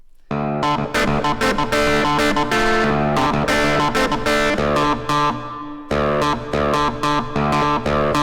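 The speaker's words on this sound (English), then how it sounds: "So it's got like a clav sound that I've run through some distortion." A keyboard playing a clavinet-style patch through distortion, loud and sustained with a gritty, buzzing harmonic tone and chorus-like shimmer, with a brief drop partway through before the notes continue.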